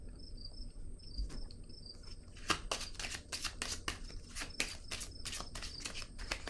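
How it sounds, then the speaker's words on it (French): Tarot cards handled and laid down on a table: a quiet stretch with faint chirping, then a rapid flurry of crisp card flicks and slaps up close. "Je vais déposer une autre carte ici."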